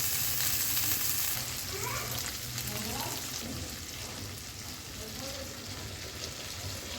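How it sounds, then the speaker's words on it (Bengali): Onion with a little garlic paste frying in a pan, giving a continuous close hiss and crackle with faint scraping of a spoon, with some soft background voice or clatter mixed in. "পেঁয়াজটা একটু ভাজা হলে আমি একটু রসুন বাটা দিব"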